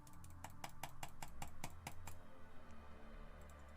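Computer mouse clicking in rapid succession, about ten crisp clicks in a fairly even rhythm followed by a few softer ones, faint and close with no voices.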